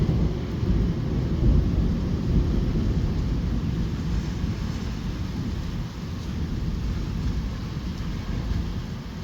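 Thunder rolling through a strong thunderstorm over Bordeaux, a continuous deep rumble with rain and wind noise, loud and unbroken throughout.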